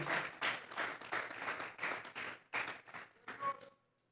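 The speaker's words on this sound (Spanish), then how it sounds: "Dele esas palmas a Dios en esta hora." Church congregation claps during a sermon, roughly a dozen rhythmic bursts of group clapping at a steady beat, fairly close, fading out near the end.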